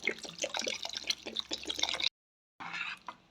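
Water pours into rice for a vegetable biryani with a close, splashy stream, stops abruptly for half a second, then pours again more briefly.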